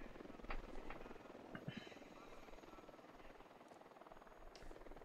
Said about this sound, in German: Achtung, da ist ein Heli.